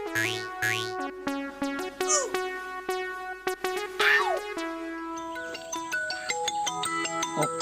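A phone ringtone plays a bright, melodic electronic tune that repeats its phrases at steady volume for several seconds, close and clear with no talking over it.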